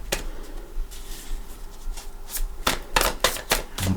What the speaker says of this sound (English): I'm going to shuffle for your cards.